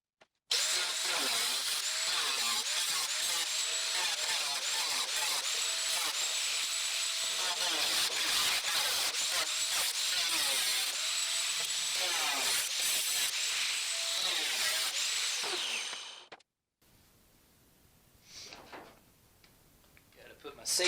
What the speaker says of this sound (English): we'll get to cutting some of this rust out and then making some patches